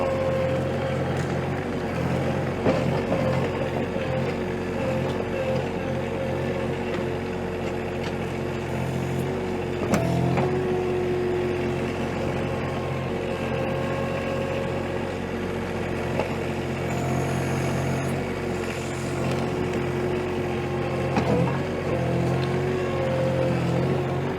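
A Toro Dingo TX1000 compact skid steer's engine drones loudly and steadily close by for over twenty seconds, a continuous mechanical hum with slight swells in revs and no talking.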